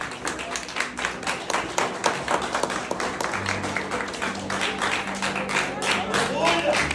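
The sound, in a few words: congregation clapping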